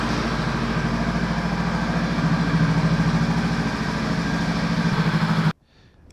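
A Honda Rebel motorcycle engine idles up close, a loud, steady low throbbing rumble that holds evenly for several seconds and then cuts off abruptly into near silence.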